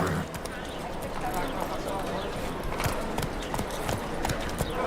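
Roach, a horse in The Witcher 3, gallops with a steady, rapid clip-clop of hooves that carries through the whole stretch, with speech from people over the hoofbeats.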